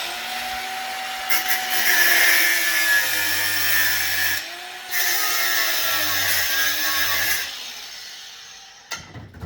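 A loud power tool cutting metal while fitting coilovers to a Toyota Cressida whines and grinds steadily, briefly cutting out midway before resuming, then winding down near the end.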